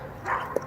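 A single short, high dog yip or bark, brief and close, over a quiet background.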